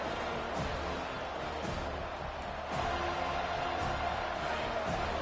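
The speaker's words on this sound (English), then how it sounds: "Here comes this home crowd as the defense tries to get off the field on third down." Home crowd at a college football game, a steady broad roar swelling slightly partway through as the defense faces third down, with no clear voices on top.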